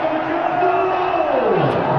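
A cricket stadium crowd at a Lahore Qalandars versus Karachi Kings match roars after a super over win, a loud, sustained wall of cheering under a commentator's voice.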